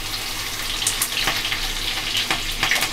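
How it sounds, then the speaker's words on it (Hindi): Chopped onion, garlic and green chillies fry in a pan, a loud continuous sizzle with scattered crackles and spits over a dense hiss, close up, no speech. "अब गाइस हम इसके अंदर कटी हुई लहसुन और हरी मिर्च डालेंगे"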